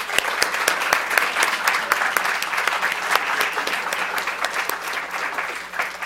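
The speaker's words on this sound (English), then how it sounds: "Can we give them a round of applause?" Sustained audience applause after a talk on raising inclusive children, a steady dense patter of many hands clapping close by, holding evenly for several seconds with no speech over it.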